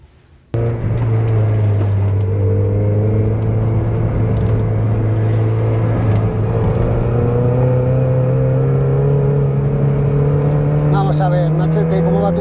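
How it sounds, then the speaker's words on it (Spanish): Mazda Miata petrol car accelerating hard, a loud close engine drone that starts abruptly and climbs steadily in pitch over about twelve seconds, with people talking over it. "Vamos a probar el Miata,"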